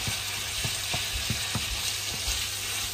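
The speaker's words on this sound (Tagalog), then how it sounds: "gigisa na natin sa mainit na mantika" Ground beef sizzles steadily in hot oil in a pan, with soft rhythmic stirring taps about every half second.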